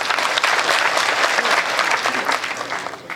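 Loud, sustained applause from a large audience at a Hindi comic poetry gathering, dense clapping throughout that tapers slightly near the end.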